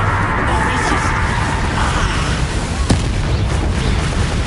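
A Bombarda blasting spell goes off in a Harry Potter video game, a loud, sustained rumbling roar of explosion and debris with a sharp crack near the end, close and dense, alongside game voice lines.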